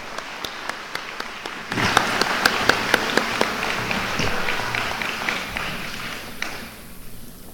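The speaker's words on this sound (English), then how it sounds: "Please give them a round of applause." A crowd applauds steadily for several seconds at a community college commencement ceremony, clapping swelling after a moment and then tapering off, with a few sharp louder claps standing out near the start.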